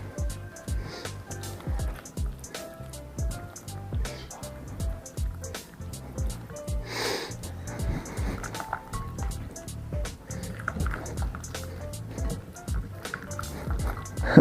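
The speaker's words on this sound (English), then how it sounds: "now we need to whisk it" Warm cocoa powder and honey being whisked together for homemade chocolate truffles, a steady run of quick, soft scraping and dripping strokes at close range, repeating throughout with no talk.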